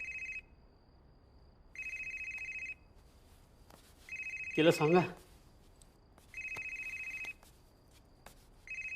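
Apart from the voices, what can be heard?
telephone ringing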